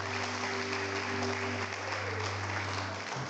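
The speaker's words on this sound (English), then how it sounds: "Date Mufutsana, Limema Mufutsana, please give them a round of applause." Church congregation applauding, a broad wash of clapping heard from a distance over a steady low electrical hum that cuts out near the end.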